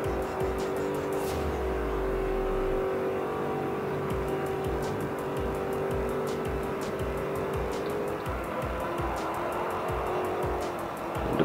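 An Alfa Romeo Montreal race car engine drones through a flying lap in the Forza 4 video game, holding a steady tone with shifting pitch and occasional tire squeal, with no talk.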